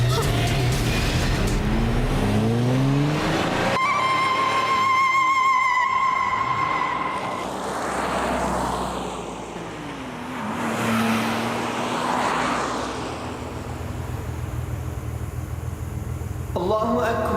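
A car driving along at a steady engine hum, with tonal horn-like or siren-like sounds and some vocal cries mixed in over the vehicle noise.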